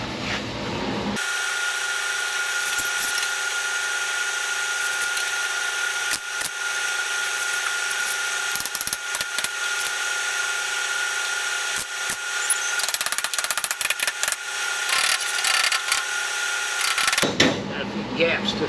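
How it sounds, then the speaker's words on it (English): A welder runs steadily for about sixteen seconds during tail light fabrication, a loud continuous buzzing hiss with crackling bursts, starting and stopping abruptly at each end. "Helps turn the welder on though."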